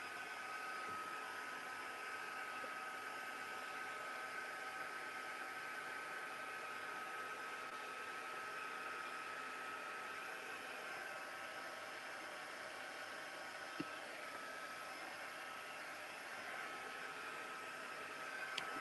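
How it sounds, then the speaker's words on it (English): A heat tool blows steadily to dry a scrapbook page at a crafting desk, a continuous even whir that holds at a constant level throughout, with no talking over it. "so we need the heat tool"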